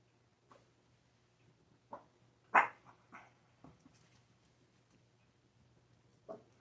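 A small dog, about seven inches long, gives a handful of sharp, scattered barks and yips indoors, quiet overall with one louder bark standing out, separated by near silence over a faint background hum.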